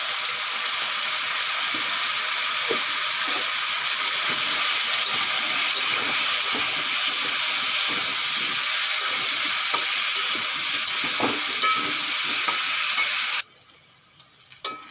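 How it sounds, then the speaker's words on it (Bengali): Cut, washed jackfruit pieces frying in hot oil with salt and turmeric, a loud steady hiss-like sizzle with small stirring knocks, cutting off abruptly near the end; no talk. "এই তেলের মধ্যে কাঁঠাল কেটে ধুয়ে নিয়েছি এগুলোও ভেজে নেব"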